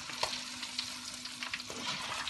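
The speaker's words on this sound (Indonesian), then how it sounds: "dari setengah matang kita goreng ke minyak yang panas" Snails (escargot) being deep-fried in hot oil, half-cooked first then crisped, giving a steady close crackle and sizzle that runs through the whole stretch without speech.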